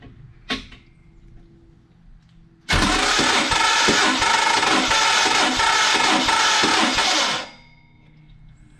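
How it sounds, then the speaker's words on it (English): A Mopar big block 400 engine is cranked by its starter and fires up, running loud and steady for several seconds before cutting off; a faint knock precedes it. "That starter sounds really bad."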